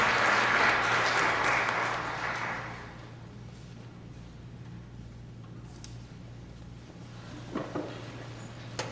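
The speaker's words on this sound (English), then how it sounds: "Let's give them a round of applause" Church congregation applause at an Episcopal service fills the first three seconds as a dense burst of clapping, then fades to a quiet room with a faint hum and a few small noises near the end.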